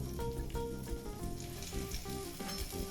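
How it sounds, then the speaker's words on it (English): Garlic sizzles in a skillet of hot fat left from cooking sausage, making a soft, steady frying hiss with light scraping and stirring touches nearby. "All right, garlic goes into the skillet."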